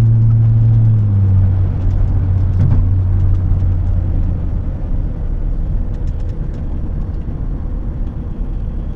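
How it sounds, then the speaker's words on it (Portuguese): A 2005 Mercedes SLK with a 3.5 V6 engine, rear-wheel drive, droning steadily from inside the cabin while driving, a low continuous rumble with a falling tone early on and constant road noise. "Olha só o ronco, não sei se dá pra ouvir."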